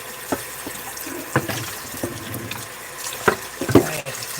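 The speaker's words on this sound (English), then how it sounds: "Gotta wash off all the meat stuff with soap and water" A kitchen sink tap runs while meat residue is scrubbed off with soap, steady water flow broken by splashes, clunks and drips, close and moderately loud, with no talking.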